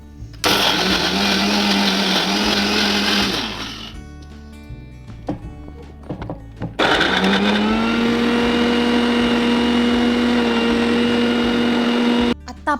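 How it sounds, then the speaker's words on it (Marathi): A mixer grinder whirs loudly while grinding fried garlic, ginger and coriander for onion-garlic masala, running in two long bursts separated by a pause filled with faint clatter. "परतून थंड झाल्यावर हे सगळे जिन्नस मिक्सरमध्ये बारीक वाटून घ्यायचे।"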